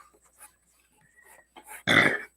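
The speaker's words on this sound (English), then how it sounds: "Pardon me, I'm burping." A single loud, throaty burp near the end, after a stretch of faint scattered noises and near silence.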